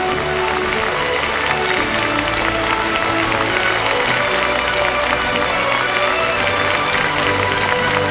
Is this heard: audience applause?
yes